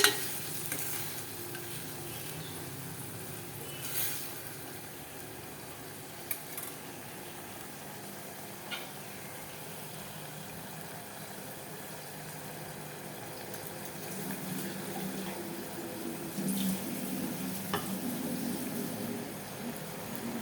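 Steady soft sizzling from a pan as coriander powder and spices are stirred for a chori (cowpea) dish, occasional scraping strokes of a spoon, quiet and continuous throughout.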